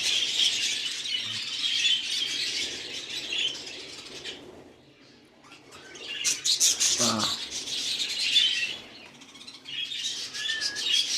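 Pet budgerigars in an aviary at a show-bird breeding stud chirp and chatter continuously, a dense, bright flock twitter that dips briefly mid-way and then swells again, fairly close.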